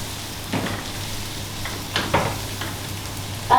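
Food frying in a pan for fir-fir and tibs is stirred and mixed, with a few scraping strokes over a low sizzle, close up with no talk.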